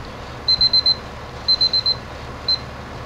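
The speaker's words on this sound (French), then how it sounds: "Ce que j'avais entendu, c'est l'alarme." Electronic alarm from a tablet beeping in quick groups of four high-pitched tones, two clusters followed by a single beep, loud and clear over low hum.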